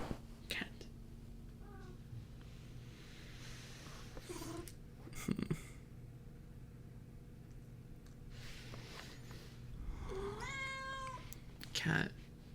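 A cat meows, with one short call early on and a longer, clearer meow later. The calls are faint and sound close, set between quiet spoken and whispered words.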